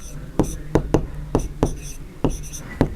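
A pen writes a maths answer on paper, with a run of seven or eight sharp, close tapping strokes at an irregular rhythm under a steady low hum.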